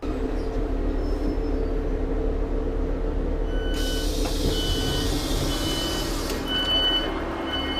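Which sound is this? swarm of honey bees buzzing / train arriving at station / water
train arriving at station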